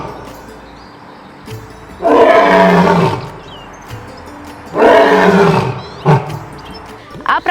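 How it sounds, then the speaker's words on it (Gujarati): An Asiatic lion at the Sakkarbaug zoo in Junagadh gives two loud, deep roars a few seconds apart, each followed by shorter grunting tails, against faint outdoor background. "જેમાં એશિયાઈ સિંહ જોવા એ આકર્ષણનું કેન્દ્ર છે"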